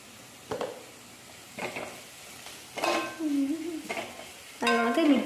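Chili powder is stirred into a frying mixture in a pan, giving a few separate scraping strokes over a faint sizzle, close and moderately loud.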